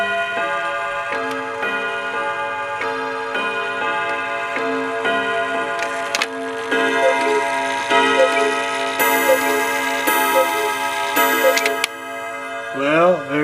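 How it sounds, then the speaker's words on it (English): A very old cuckoo clock ticks in a steady, close, loud rhythm while tonal chiming and cuckoo calls ring out as it strikes the hour. "Now it'll do 4 times and it'll cuckoo 5 o'clock."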